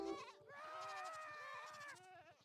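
A screaming goat in a video game lets out one long, loud, wavering bleat over a rapid pattering background, lasting about two seconds.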